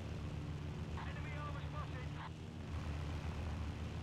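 A propeller airplane engine drones steadily in a multiplayer war video game match, a low continuous hum with a brief burst of chatter over it.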